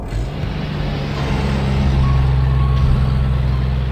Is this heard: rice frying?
no